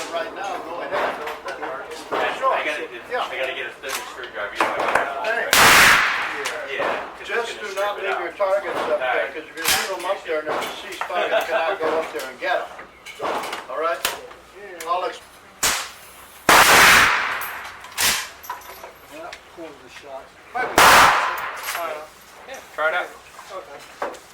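A hunting gun that holds three rounds fires several sharp, loud shots, spaced seconds apart and each ringing out with a broad blast, while someone talks in between.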